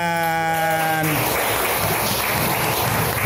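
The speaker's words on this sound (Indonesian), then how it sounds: "tangan." Young children in a classroom held in a church facility in Malaysia clap together in a dense, steady burst that follows a brief spoken prompt and fills the rest of the moment.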